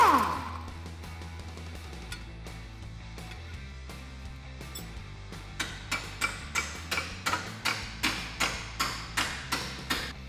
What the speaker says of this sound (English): Grab a 21mm deep socket, along with the 21 ratchet or wrench,